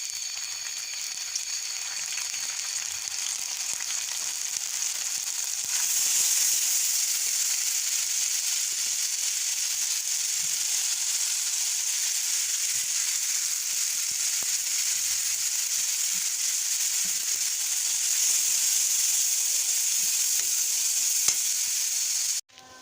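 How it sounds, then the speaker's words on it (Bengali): Turmeric and spice masala sizzle in hot oil for a steady, loud, dense crackle that runs unbroken nearly throughout, ending with a brief clatter. "মশলাটা কষে হচ্ছে, দেখুন তেল ছাড়া দিচ্ছে"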